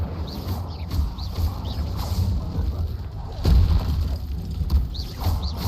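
Repeated magical spell blasts, including Incendio fire spells, in Hogwarts Legacy combat: muffled booming bursts over a steady low rumble, with a sharp whoosh near the middle.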